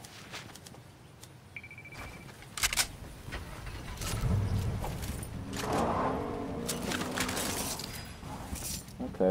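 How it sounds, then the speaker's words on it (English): A vehicle in the Fortnite video game, a rising and falling motor drone that swells in mid-moment among scattered clicks, impacts and other game effects. "I hear a car."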